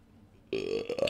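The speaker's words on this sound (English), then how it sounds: "I cannot stop burping tonight" A loud, drawn-out belch erupts after a half second of quiet room tone, rumbling and gurgling for over half a second with a couple of shorter burps trailing close behind.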